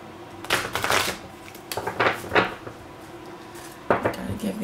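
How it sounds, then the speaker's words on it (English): Tarot cards shuffled by hand at a reading, several quick papery riffle bursts with short pauses between them, close and fairly quiet. "Gotta give these cards a good shuffle."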